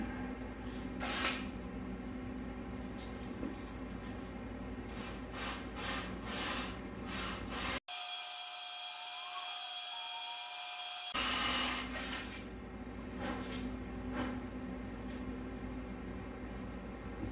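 A 0.332 drill bit bores a hole during steam line plumbing work on an LS engine's water pump: a steady, loud grinding that runs continuously, cuts out briefly for about three seconds, then resumes.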